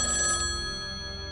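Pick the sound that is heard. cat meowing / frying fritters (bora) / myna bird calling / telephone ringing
telephone ringing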